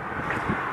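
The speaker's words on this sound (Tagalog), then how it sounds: "Hindi siya malamig pero malakas ang hangin." Strong wind buffets the microphone in a continuous rough roar while walking on slippery ice, loud and unbroken, with no other clear sound.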